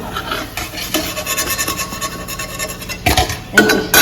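Close scraping and rubbing of luchi dough being rolled on a board while luchi fry, with occasional clinks of utensils; a louder burst of clatter near the end.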